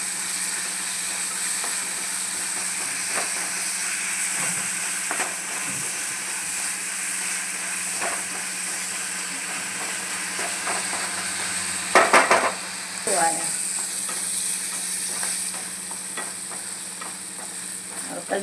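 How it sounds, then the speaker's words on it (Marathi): Chopped onions sizzle and fry steadily in a pan with salt while being cooked down to reddish brown for masala pasta, with a few stirring scrapes and a brief clatter of a spoon partway through. "कांद्याला मस्त असं शिजून घ्यायचं आपल्याला लालसर करून"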